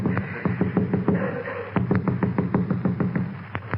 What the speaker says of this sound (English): It was a kind of a thumping noise.